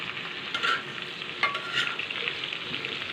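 Whole hog plums fry in oil while being stirred, producing a steady close sizzle with a few scraping stirs of a utensil against the pan for a pickle; no one talks.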